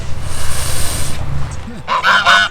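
Geese honk loudly at close range in a short run of calls near the end, following a stretch of low rumbling background noise.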